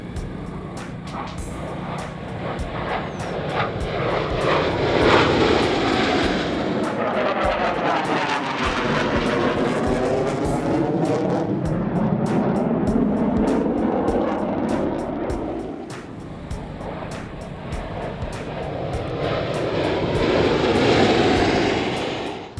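Jet aircraft flying in formation pass overhead in a loud, continuous roar that swells, shifts in pitch as they sweep past, and rises again near the end, with no voices.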